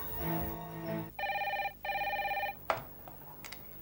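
An indoor telephone rings in two even bursts of electronic trilling, clear and close, separated by a brief pause, followed by a faint clatter as it is picked up.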